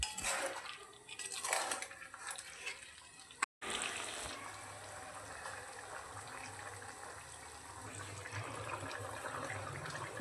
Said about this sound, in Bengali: এরপর সমস্ত কিছু ভালো করে কষিয়ে নেব